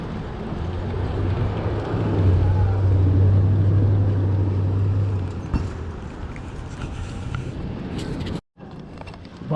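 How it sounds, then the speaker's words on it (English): A bicycle shuttle vehicle at a mountain bike festival pulls up with a steady low engine rumble, loud and close at first, then easing off, with wind noise and a brief sharp break near the end. "Bicycle shuttle pulling up."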